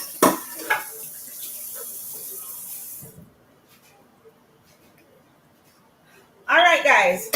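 Saltfish frying in a small frying pan gives a steady hissing sizzle for about three seconds, then the sound drops to near silence before a voice speaks at the end.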